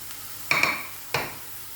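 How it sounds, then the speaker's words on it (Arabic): Chopped vegetables with grated small peppers and softened onion are stirred in a pan for an Egyptian omelette: two sharp spatula scrapes with a metallic clink ring out over a faint low sizzle, close and without speech. "وبرده هنقلب كله مع بعضه علشان الخضار كله يدبل"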